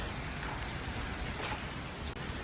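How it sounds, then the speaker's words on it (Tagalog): Heavy rain falling over a parking area, a dense steady hiss with faint scattered drops, continuous and unbroken, with no voices. "May malakas na ulan oh."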